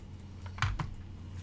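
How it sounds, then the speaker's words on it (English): A computer keyboard being typed on: two quick key taps close by over a low hum, brief and fairly soft. "I'm typing in 17"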